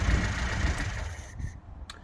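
A Lada Niva's engine idles with a low, steady rumble, then cuts out near the end, leaving near silence broken by a faint click.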